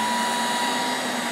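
A RYOBI vacuum suctions a damp carpet with a loud, steady, close-up whooshing roar that lasts the whole brief moment without any voices.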